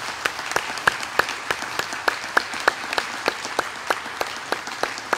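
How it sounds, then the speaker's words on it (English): A church congregation applauds standing veterans, a dense, steady round of clapping with sharp individual claps cutting through, lasting several seconds. "Give these guys a round of applause."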